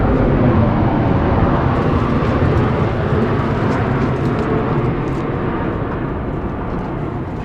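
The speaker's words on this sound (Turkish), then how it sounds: "Uçak geçiyor arkadaşlar." A loud, steady low roar of a jet airplane passing overhead near a pigeon coop, broad rumbling noise holding for several seconds and easing slightly toward the end.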